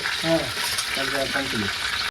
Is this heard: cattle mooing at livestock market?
no